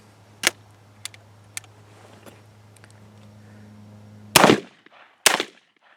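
Cimarron double-barrel shotgun loaded with old Remington green shells fires two loud, close blasts about a second apart near the end, after a few sharp mechanical clicks and handling knocks over a low steady hum.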